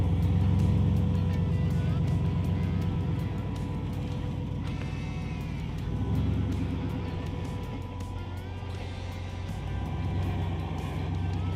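An off-road vehicle crawling up a rock obstacle at Sand Hollow, its engine giving a steady low rumble and drone that swells slightly at times, heard close and continuous throughout.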